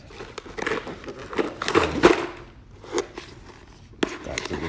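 Cardboard box of AMMO Inc .223 rifle ammunition being opened, with close crinkling, scraping and rustling of packaging in irregular bursts and a few sharper clicks.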